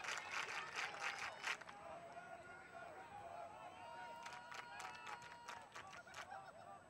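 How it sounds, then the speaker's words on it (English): A crowd of spectators cheers and whoops at an ultimate frisbee game between NexGen and Portland Rhino, with loud bursts of shouting near the start and again toward the end and a commentator talking throughout. "Crowd's getting really into it."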